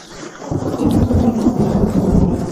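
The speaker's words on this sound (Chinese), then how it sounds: "外面暴雨" A heavy rainstorm with thunder: after a brief quiet moment, a deep, rolling roar of thunder swells and stays loud over dense, steady rain for the rest of the moment.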